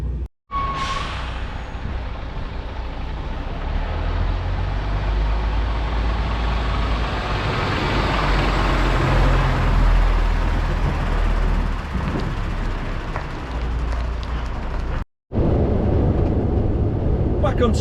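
A delivery vehicle cruises along the A134 through a stretch of forest near King's Lynn, giving a steady, loud cabin rumble and road roar that briefly cuts out near the start and again around fifteen seconds in.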